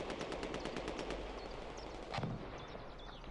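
Gunfire in a video game match: rapid automatic bursts rattle steadily at a distance, then a single sharper shot, with no talk over it.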